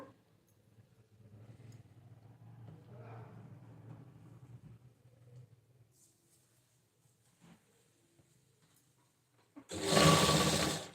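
A sewing machine stitches a size 36 blouse with piping. After a stretch of quiet, low rustling, it bursts into a loud, close, fast whirring run for about a second near the end.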